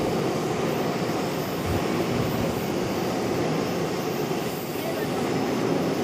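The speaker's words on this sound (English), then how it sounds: "777-300 ER from London Heathrow." A Boeing 777-300ER arriving from London Heathrow at Charlotte, heard as a steady broadband engine roar holding at a constant level from start to finish.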